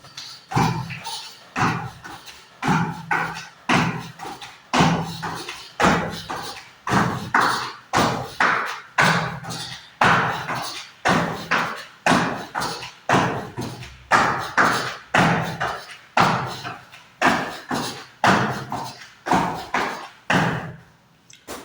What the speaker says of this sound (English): Let's start with cordless skipping.